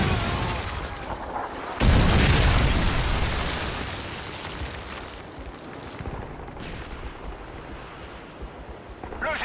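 Missile strikes rumble through a Modern Warfare 3 Domination match on Arkaden, a sudden heavy boom followed by a long rolling roar that slowly fades, with game radio chatter faintly underneath.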